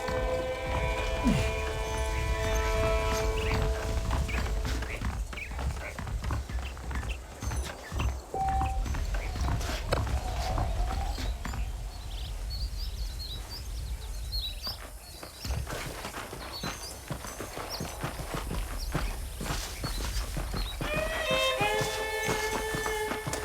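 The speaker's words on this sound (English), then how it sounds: "I picked out a fine horse for you." Horse hooves clip-clop in Red Dead Redemption on Xbox 360, a steady rhythmic plodding that runs through most of the stretch, mixed with western-style game music and ambient effects.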